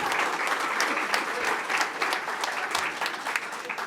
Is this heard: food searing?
no